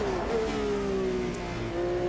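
A Brabham BT46 race car in the sim racing game Automobilista 2 sounds its engine as a steady, loud, buzzing drone that sags slightly in pitch, heard alone.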